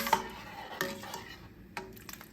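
Seasonings for gumbo, including Old Bay, thyme, sage and Cajun spices, are stirred together in a bowl; a few faint clinks and scrapes of utensil against dish are spaced out over a quiet background.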